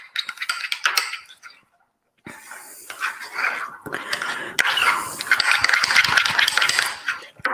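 A spoon scrapes and clinks against a bowl while cinnamon bun mixture is stirred, close, irregular rattling and scraping with a brief pause, then busier clattering.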